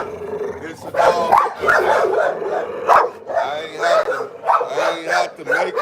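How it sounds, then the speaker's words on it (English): A dog barks and growls repeatedly in close, loud bursts, mixed with people talking over it. "as you can see, it's a dog."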